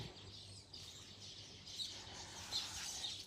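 A brightly coloured bird chirps outdoors on a prayer mountain, with thin, high tweets repeating at a modest distance over a faint ambient background, and no voices.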